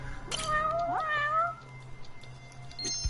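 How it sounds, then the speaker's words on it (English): A cat meows in a few rising and falling calls near the start, fairly close over a low steady hum, then the scene goes quiet apart from faint background noise. "You guys heard that kitty, right?"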